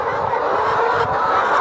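Chickens on a poultry farm holding over a thousand birds cluck and murmur as a dense, continuous flock noise, loud and close, with no talking.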